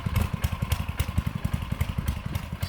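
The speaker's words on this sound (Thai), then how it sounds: "ถ้าพ่ออยากเดินไวพ่อก็เร่งเครื่องขึ้นนิดนึง" A mini walk-behind plowing tractor's small engine chugs in a fast, regular rhythm of close, loud putting pulses while working a field, with no talk over it.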